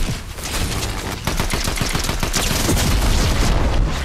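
Rapid gunfire from the Fortnite video game, with dense overlapping automatic shots and booming reports rattling continuously for four seconds at close, loud range.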